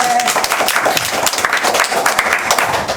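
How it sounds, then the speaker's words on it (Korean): Clapping from a congregation at a Korean national prayer meeting, a steady burst of hand claps filling the room with a faint voice briefly heard. "벌써 가장 먼저 박수를 쳐주시네."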